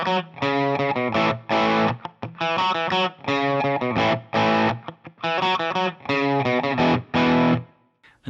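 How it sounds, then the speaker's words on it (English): Overdriven electric guitar through a Fractal FM3/FM9/Axe-FX III model of a Matchless Chieftain amp, a mid-gain country tone with a 421 cab mic, 10K high cut; loud chord strums in a rhythmic pattern with short gaps. "For our overdrive tone, we are using a Matchless Chieftain."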